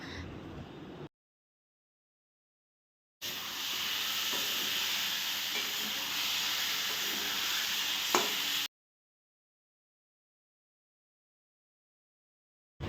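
Spice paste frying in a wok gives a steady sizzling hiss for several seconds, set between stretches of silence, with a brief clink near the end.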